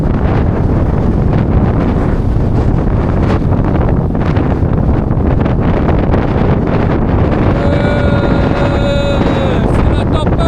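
Stormy wind roars loud and unbroken across a microphone on the Brittany coast, buffeting hard throughout, with a voice calling out faintly beneath it.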